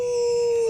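A voice imitates a wolf howl, one sustained, even-pitched howl held close and loud for under a second in a Western survival drama.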